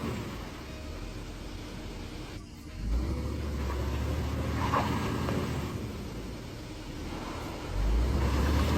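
Heavy trailer laboring through deep mud on a crane site, its diesel engine rumbling steadily with surges in low-end power, a broad continuous drone close by with no speech.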